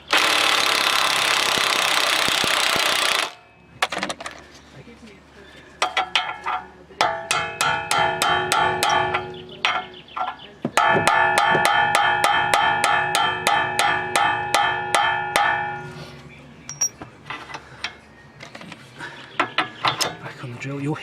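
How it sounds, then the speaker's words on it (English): An impact-style power drill hammers at a rusted rear suspension bolt on an Alfa Romeo, loud rapid rattling bursts starting and stopping repeatedly after an opening stretch of broadband noise. "On the drill, you'll hear it trying to crack it"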